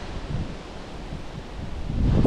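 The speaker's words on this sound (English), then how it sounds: "It's really windy" Gusty wind buffets an open microphone in a garden, a steady low roar with rustling that swells louder toward the end, with no voices.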